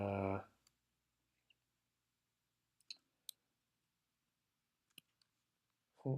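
A few scattered key clicks on a computer keyboard as a command is typed, faint and sparse between short bursts of a voice at the start and end.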